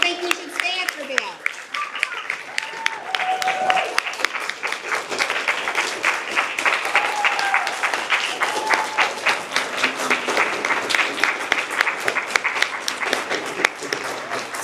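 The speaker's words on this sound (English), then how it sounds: "give these folks a round of applause and a standing ovation" Sustained applause from a standing audience at a university graduation ceremony, dense clapping filling the whole stretch with a few faint voices mixed in.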